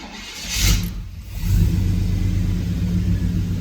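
A car with TBI throttle-body fuel injection cranks briefly, then catches and settles into a steady, close, rumbling idle that continues to the end.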